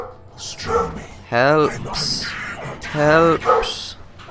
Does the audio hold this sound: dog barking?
yes